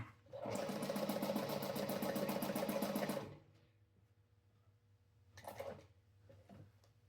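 A sewing machine stitching a crossbody bag runs in one steady, rapid burst for about three seconds, the stitching loose. Brief fabric handling and clicks follow in the quiet afterward.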